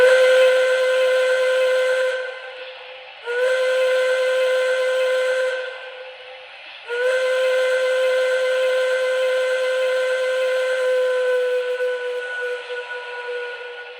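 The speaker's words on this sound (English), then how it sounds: "not only does this have the whistle steam effect, but the whistle sounds incredible" A model 4-truck Shay steam locomotive's whistle sounds in three long, loud, harmonic blasts. Each breaks off for about a second before the next, and the last one holds steadily.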